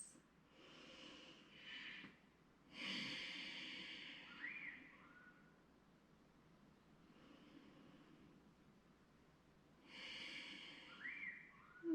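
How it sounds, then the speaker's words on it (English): Ujjayi breaths drawn through the nose with a slightly constricted throat during a vinyasa yoga class, a few soft, hissing inhales and exhales with pauses between them, close and gentle. "You're just creating a slight constriction in the back of the throat, almost like you're fogging up a window."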